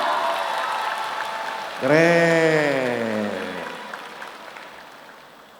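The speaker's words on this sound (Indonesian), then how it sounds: "Mana tepuk tangannya?" Moderate crowd applause rises for a contestant at a campus event at Universitas Indonesia, then a voice cuts in with a drawn-out exclamation while the clapping fades under it.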